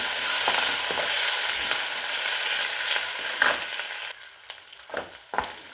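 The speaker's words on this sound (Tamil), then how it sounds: "இது எல்லாத்தையும் சேர்த்து இப்போ நல்லா வதக்கி விட்டுக்கிறேன்" Green chillies and curry leaves sautéing in a pan for rava kichadi give a dense, steady sizzle with occasional stirring scrapes. Around midway the sizzle drops quieter and sharper clinks of the spatula stand out.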